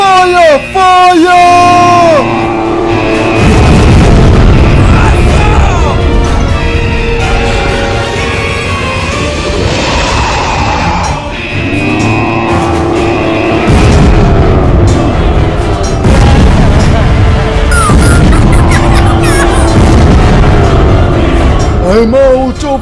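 Rocket launches and explosions from a BeamNG driving game zombie battle, booming blasts and bursts recurring loudly throughout over a dense mix of game music, shouting and effects.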